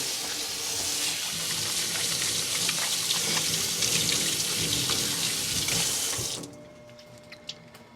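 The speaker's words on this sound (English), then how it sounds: "Let me just wash my hand one more." Hands washed under a running kitchen tap while cooking chicken curry, a steady close hiss of flowing water that runs loudly for about six seconds before shutting off, leaving a quiet room with a faint click.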